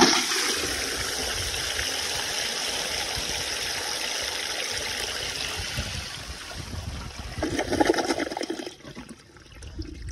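A 1920 Standard Ejecto vintage toilet flushes with a loud rushing siphon of water that holds steady, surges briefly near the end, then drains off quietly.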